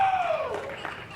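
Wrestling crowd at a live pro wrestling event claps and cheers in a broad, sustained wash of noise, with a faint voice over it.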